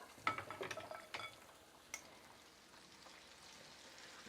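Chicken pieces are stirred and turned in a pan as they fry, giving faint sizzling with a few soft utensil clinks and scrapes near the start, then quieter steady frying.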